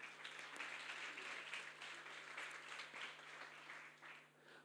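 A church congregation applauding, a steady wash of many hands clapping at a distance that fades slightly toward the end.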